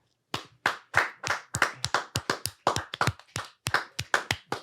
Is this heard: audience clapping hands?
yes